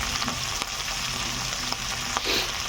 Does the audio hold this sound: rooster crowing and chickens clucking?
no